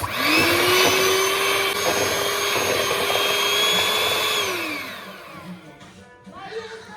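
An electric hand mixer beats tres leches cake batter with vanilla extract, holding a loud, steady motor whine for several seconds before spinning down and falling quiet, followed by a brief voice.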